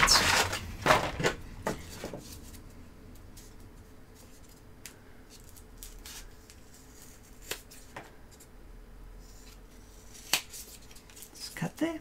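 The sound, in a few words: scissors cutting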